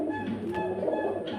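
Pigeons kept for sale coo softly at night in their loft, a low continuous murmur close by with a faint steady hum beneath and no talk.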